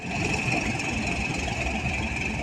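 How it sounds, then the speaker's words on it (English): An old diesel train engine runs steadily nearby, a continuous low rumble and throb with a faint high whine on top, unbroken and fairly loud throughout. "That is a lovely old diesel."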